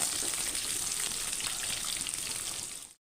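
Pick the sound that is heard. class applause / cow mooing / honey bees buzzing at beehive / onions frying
onions frying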